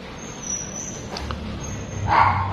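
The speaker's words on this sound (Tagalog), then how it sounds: "ang ingay ng aso" A dog barks a couple of times at a distance in Libmanan, Camarines Sur, with a louder yelp near the end over a low background hum.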